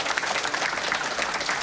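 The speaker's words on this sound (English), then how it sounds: "Just give him a round of applause." A sustained round of applause from a crowd at a UFC event, dense steady clapping filling the whole stretch with no break.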